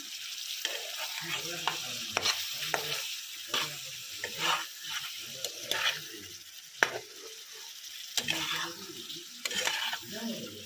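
Spices with garam masala are stirred in a frying pan: repeated scraping and shuffling strokes come in uneven bursts over a softer sizzle, close and fairly quiet, with no one speaking.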